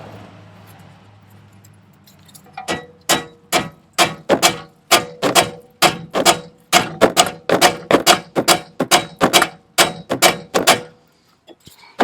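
A hammer strikes a bolt on a front McPherson strut of a Dodge Grand Caravan in a steady run of about twenty sharp metallic blows, close and loud, with brief pauses between bursts.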